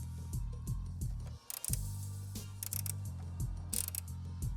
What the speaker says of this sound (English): And we're just going to slowly thread it in.